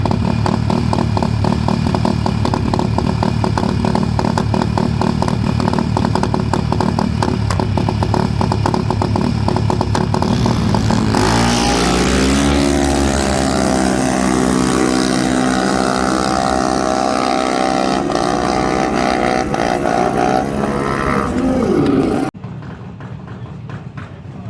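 Junior dragsters racing at Santa Pod Raceway in a Euro Finals semi-final, a loud, continuous engine roar that shifts pitch midway and then cuts off abruptly.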